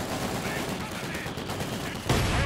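Dense, loud video-game gunfire with incendiary rounds and mortar fire against an M5 tank: rapid overlapping shots fill the whole stretch and swell into a heavier burst at the end.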